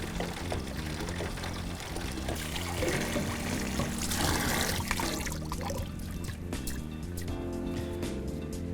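Tap water pours and trickles steadily through an air filter being back-flushed clean of washing-up liquid, a continuous close splashing flow with no talk.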